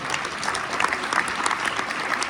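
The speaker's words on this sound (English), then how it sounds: "Give me a round of applause." A class at an improvisation clinic gives a round of applause, a brief, even wash of many people clapping at moderate distance.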